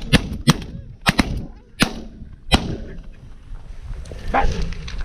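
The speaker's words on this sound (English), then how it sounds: "Damn gun shot." Several sharp shotgun blasts go off during a Canada goose hunt, spaced irregularly and loud, with outdoor field noise and faint voices between shots.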